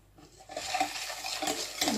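Spoon stirring cinnamon, ginger and nutmeg into carrot cake batter in a bowl, a soft continuous scraping and swishing with light clinks against the bowl, quiet and close.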